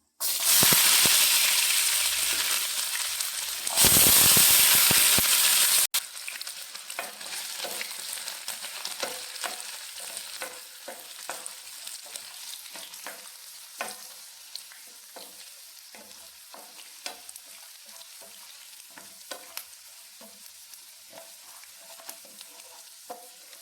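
Fenugreek and mustard seeds, ginger, garlic, curry leaves and kanthari chillies hitting hot oil for a carrot-mango pickle: a loud burst of hissing sizzle for several seconds, then a quieter sputter full of scattered popping crackles.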